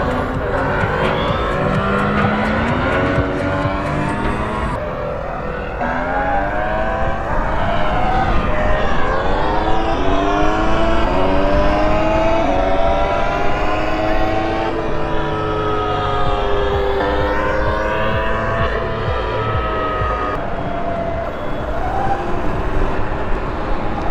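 A motor whine rises and falls in pitch continuously, a synthesized fake exhaust note from a nearby Surron electric dirt bike accelerating and easing off, with steady road rumble underneath.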